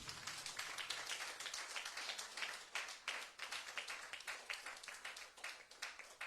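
A church congregation claps through a Sunday praise service, a dense, steady patter of many hands close by, broken by brief dips, with faint voices mixed in.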